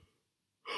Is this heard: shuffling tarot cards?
no